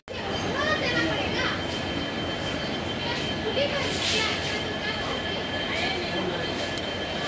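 Passenger train pulling into New Bongaigaon railway station in Assam, heard as a steady, loud rumble and rolling noise of the carriages for several seconds, with a busy platform crowd and children's voices mixed in.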